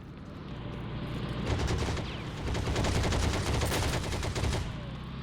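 Gunfire in the Heroes and Generals World War II shooter game: a continuous fusillade of many overlapping shots, moderately distant, with rapid automatic bursts swelling in the middle of the stretch.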